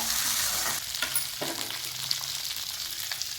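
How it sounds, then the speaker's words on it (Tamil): Small onions sautéing in oil in a clay pot give a steady, close sizzle with a few soft stirring scrapes, and no voices. "சின்ன வெங்காயம் நல்லா வணங்கி வர வரைக்கும் வதக்கலாம்"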